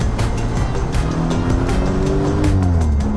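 Audi RS5 engine under way, a loud continuous roar with rising and falling tonal harmonics as it pulls and shifts, close and steady throughout with no talking.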